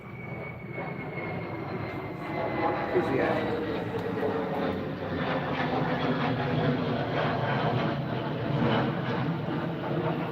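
An airplane drones overhead near an air station, a steady broadband engine rumble that swells slightly and holds under occasional talking.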